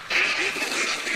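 A single drawn-out duck quack in the video game Hunt: Showdown, loud and close, nasal and slightly wavering, lasting about a second.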